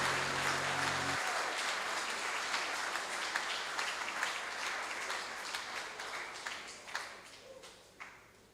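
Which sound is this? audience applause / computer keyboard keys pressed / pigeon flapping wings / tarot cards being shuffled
audience applause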